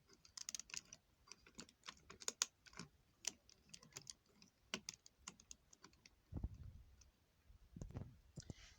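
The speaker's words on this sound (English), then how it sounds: "They should make clicking sounds." A Transformers Barricade toy has its plastic arms clicked into place, giving a series of sharp, close, faint clicks and ticks with small handling knocks between them.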